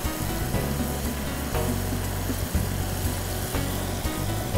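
Hilsa fish frying in a pan until reddish, giving a steady, loud, dense sizzle that carries on without a break, with faint clatter now and then.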